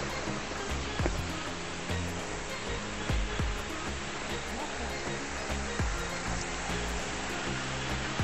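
A hidden waterfall in a jungle valley, Hidden Valley of CKP, running with less water than usual, gives a steady, loud wash of rushing, splashing water throughout, with faint voices now and then.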